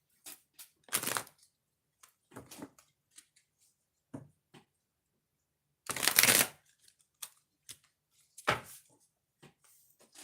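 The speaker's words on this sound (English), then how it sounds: "One shuffle." Oracle cards being shuffled in a few quick, crisp riffling bursts, close and quiet, separated by near silence and small handling taps.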